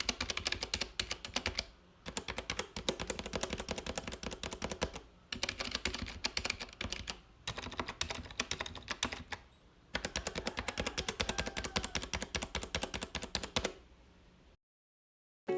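Rapid typing on an unmodded 65% mechanical keyboard with stock switches and keycaps, dense clacking keystrokes close up in bursts separated by short pauses, ending in silence.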